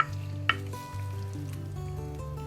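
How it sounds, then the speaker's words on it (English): Baked feta pasta with spinach, artichokes and hearts of palm spaghetti is stirred in a dish, with soft, continuous scraping and a faint sizzle and one sharp clink near the start. "So I'll just get this stirred together really nicely and throw it back in the oven."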